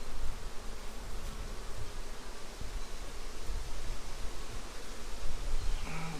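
Honey bees buzz in an open hive, a dense, steady drone of many insects close by, continuous and fairly loud throughout with no voices.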